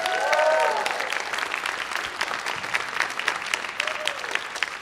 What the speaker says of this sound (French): on donne une main d'applaudissement à Gabriel